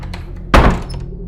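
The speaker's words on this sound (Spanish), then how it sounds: "la puerta, la cual se escuchó a continuación con un portazo fuerte" A house door slams shut with a single loud, heavy thud that booms briefly and then decays against a quiet room background.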